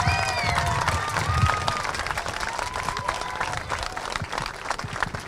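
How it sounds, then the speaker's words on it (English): A large audience applauds steadily at a Cops For Kids With Cancer ceremony, with loud, dense clapping mixed with cheers and a few high whistles that carry on throughout. "We need to really offer her a great round of applause."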